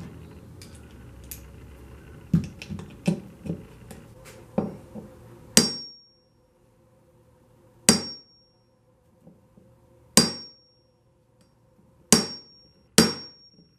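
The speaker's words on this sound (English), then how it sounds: "So that's the Phillips impact screwdriver set." A Pittsburgh Phillips impact screwdriver is struck with a hammer to loosen a screw: a quick cluster of sharp metallic blows, then single loud ringing strikes spaced about two seconds apart, close and otherwise quiet.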